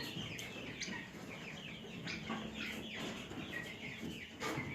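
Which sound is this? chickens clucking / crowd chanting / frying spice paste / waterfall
chickens clucking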